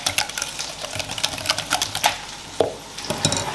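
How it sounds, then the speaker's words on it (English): Chorizo quiche filling being mixed in a bowl, with rapid irregular clinking and tapping of a utensil against the bowl, close and fairly quiet, and no talk. "And I'll mix this together."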